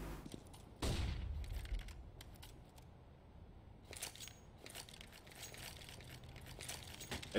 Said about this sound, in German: Letzter Schuss war ein bisschen komisch